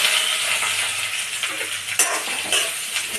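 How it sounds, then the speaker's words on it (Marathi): Okra fries in about two teaspoons of hot oil in a pan for bhindi bhaji, a steady close sizzle running throughout with occasional scraping and clinking from stirring. "तेल तापलेलं आहे। आता आपण भेंडी पहिला भाजून घेऊया।"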